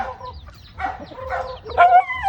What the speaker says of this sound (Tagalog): daghana na manok sila oy